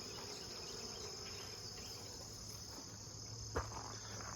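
Honey bees buzz steadily around apiary hives on an early late-July morning, a continuous soft insect drone with faint background hiss and a brief knock near the end.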